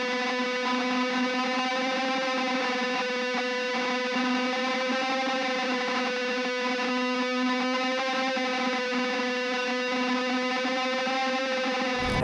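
A shoegaze beat pitched down a full octave plays as a dense, distorted wall of sustained guitar-like tones with a droning low hum, steady and loud throughout, cutting off abruptly at the end.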